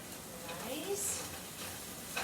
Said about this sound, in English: We're going to stir this, make sure this is